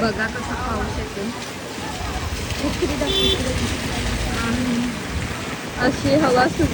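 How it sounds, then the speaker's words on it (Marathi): Heavy rain with gusting wind while people wait outdoors holding umbrellas: a dense, steady roar of downpour that fills the whole stretch, with faint voices and passing traffic mixed underneath. "बघा कसा पाऊस येतो"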